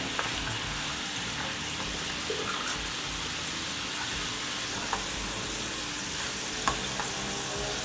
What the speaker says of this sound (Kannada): ಮೀಡಿಯಮ್ ಫ್ಲೇಮ್ ಇಟ್ಕೊಂಡೆ ಚೆನ್ನಾಗಿ ಫ್ರೈ ಆಗಬೇಕು.